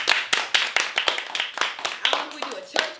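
Several people clap their hands in a quick, fairly even rhythm, with about a dozen distinct sharp claps close by and voices faintly audible beneath them near the end.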